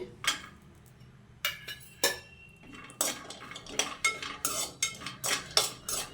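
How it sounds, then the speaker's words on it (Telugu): Grated coconut is dry-roasted in a pan and stirred with a metal spoon, producing a run of close, repeated scraping and clinking strokes in an irregular rhythm, with no voices. "కొద్దిగా వేపుకోవాలి కొబ్బరి"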